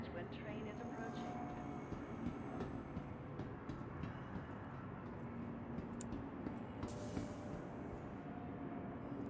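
In a Star Citizen station, a train pulls in to the platform with a broad rumbling roar, brief hissing bursts and a faint chime, while a voice speaks over it.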